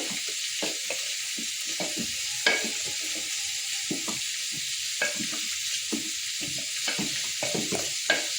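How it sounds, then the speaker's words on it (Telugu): A wooden masher works through cooked dal and tomatoes for Chennai-style sambar, with rhythmic, close, squelching thuds repeating steadily over a low sizzling hiss. "ఓసారి పప్పు గుత్తితో అయితే స్మాష్ చేసుకుంటున్నానండి బాగా, ఇంకా చిక్కగా."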